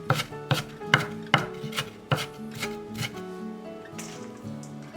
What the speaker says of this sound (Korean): 대파 반줄기는 칼집을 내서 작게 썰었다.